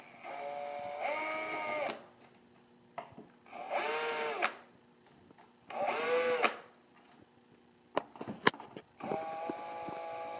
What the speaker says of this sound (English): You're going to remove these bolts with a cross tip screwdriver.